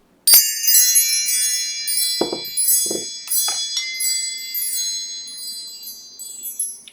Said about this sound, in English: Let's call in spirit with some chime time.